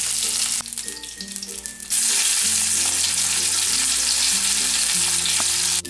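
Breakfast food sizzles steadily in a hot frying pan, a loud continuous fry close by with no talking, while a sustained musical drone runs throughout.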